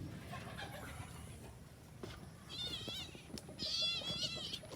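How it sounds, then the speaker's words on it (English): A stray cat meows twice outdoors in a backyard in the Philippines, the second cry louder and longer, over a faint rustling background. "We got a stray cat back here, always begging for food."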